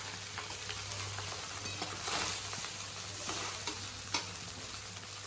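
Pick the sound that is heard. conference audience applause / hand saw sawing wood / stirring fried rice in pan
stirring fried rice in pan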